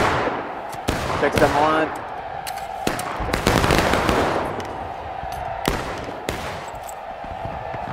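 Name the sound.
rifle volley fire in a reenactment skirmish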